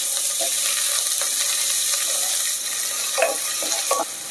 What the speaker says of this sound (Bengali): একদম কম তেল দিয়ে পেঁয়াজটা গরম মশলার সাথে একটু ভেজে নিতে হবে।